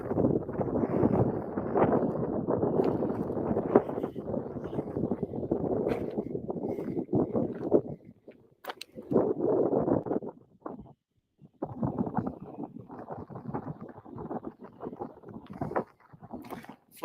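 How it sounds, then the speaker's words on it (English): Outdoor wind buffets the microphone in low rumbling gusts that come and go, strong at first, then broken into shorter bursts with brief lulls between. "It's a little windy here."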